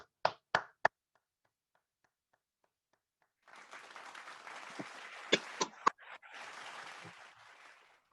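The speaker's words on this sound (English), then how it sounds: "I like the canned applause." A few sharp, close claps open, followed after a near-silent pause by a played-in canned applause track at a Toastmasters hall of fame event, a dense burst of clapping with a few louder hits that runs several seconds before fading.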